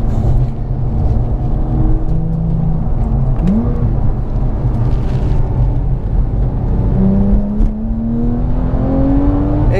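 A Porsche 997 GT3 with a manual gearbox is driven, its engine droning steadily inside the cabin with rising revs as it pulls through gears, a loud continuous rumble with smooth upward pitch sweeps.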